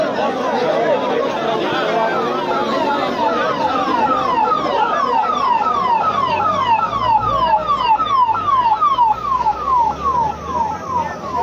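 Emergency vehicles with sirens arriving at a protest in Dongra Ahir village, Mahendragarh, their sweeping wails rising and falling steadily over a crowd's loud chatter and talk.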